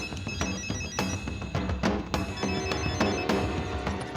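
A phone ringtone plays a repeating electronic tone pattern, steady and fairly loud, with no talking.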